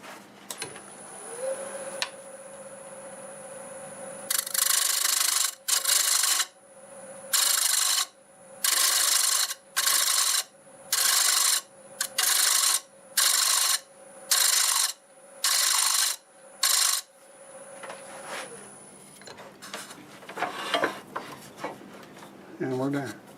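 A wooden bowl turns on a lathe with a steady motor whine, and a gouge cuts into it in about ten regular bursts of loud, scraping tone. A faint voice comes in near the end.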